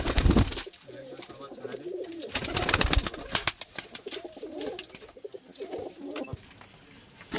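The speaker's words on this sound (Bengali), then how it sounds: "প্রত্যেকটা পায়রাই খুব ভালো" Saharanpuri Jack pigeons coo in low, throaty bursts through most of the stretch, fairly close, with some flapping and rustling noise mixed in.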